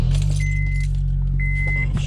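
An Acura RSX being started: a steady low engine rumble underneath two high electronic chimes and faint clicks, heard close from inside the car, with no talk.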